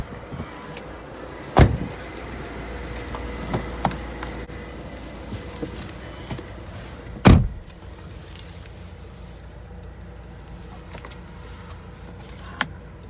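Power windows of a 2012 Volkswagen Jetta TDI sport wagon running up and down inside the cabin, a faint steady motor whine with two sharp thumps as the glass stops, otherwise quiet.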